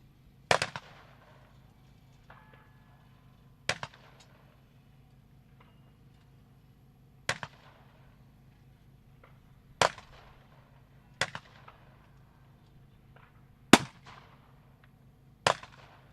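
Rifle shots at a long-range shooting competition, seven sharp isolated cracks spaced a few seconds apart, each with a short ringing tail over a low steady hum, fairly distant and loud.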